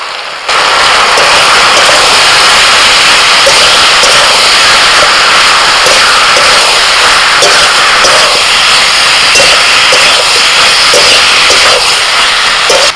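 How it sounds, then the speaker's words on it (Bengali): Vegetables fry with ground spices, salt, turmeric, chilli, cumin and ginger paste in a pan, making a constant loud crackling hiss with scattered small pops throughout, no talking. "মশলার সাথে সবজিটাকে ভালো করে কষিয়ে নিয়েছি"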